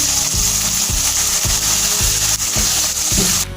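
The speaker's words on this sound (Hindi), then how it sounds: "अच्छे से इसको भूनेंगे" Minced meat and green peas for mattar keema sautéing in a pan, a loud continuous sizzle broken by regular rhythmic scraping strokes of a spatula about every half second, close up, no talking.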